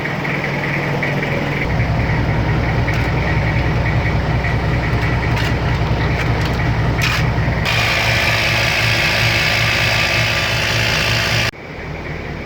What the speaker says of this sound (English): So I'll get the little old 12-volt air pump out here, get some air in my